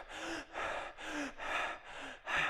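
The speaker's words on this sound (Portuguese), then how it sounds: "eu estou forçando uma respiração mais profunda, com maior frequência, utilizando mais da minha reserva pulmonar" Forced deep, rapid breathing, six strong breaths in a steady rhythm, each a loud rushing inhale or exhale heard close and alone, with no talking.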